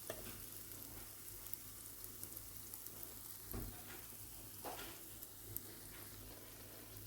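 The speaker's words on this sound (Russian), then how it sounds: "Все остальные оладушки жарю точно так же." Oladyi pancakes fry in oil in a pan, giving a quiet, steady sizzle dotted with occasional soft pops and ticks.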